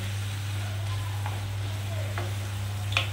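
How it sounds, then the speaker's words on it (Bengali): Elephant foot yam sautéing with coconut paste in a pan makes a continuous soft sizzle over a low steady hum, with a few faint spatula scrapes and one sharp tap at the end. "এবার আমি নারকেল বাটাটার সঙ্গে ওলটাকে ভালো করে কষিয়ে নেব।"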